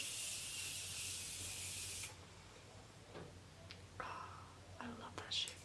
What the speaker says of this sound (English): now before highlight, I will spray with my Morphe Continuous Setting Mist.